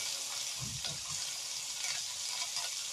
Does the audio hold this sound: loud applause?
no